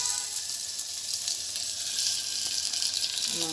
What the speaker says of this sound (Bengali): সরিষার তেল দিয়েছি, এখন মাংসটা দিয়ে দিব।